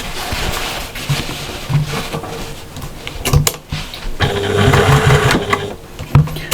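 A sewing machine stitches a strap onto a patchwork shopper bag in short bursts of rapid whirring, with brief pauses and small clicks between runs.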